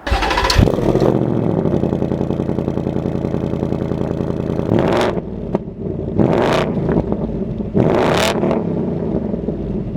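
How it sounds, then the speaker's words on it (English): A 2026 Ford Mustang GT with active valve exhaust revs hard several times with a loud throaty exhaust, settling into a rumbling idle between sharp bursts of throttle. "this one has the active valve exhaust"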